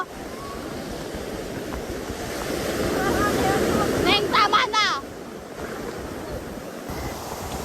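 Waves crash and roll steadily with wind buffeting the microphone, while people shout and call out excitedly close by.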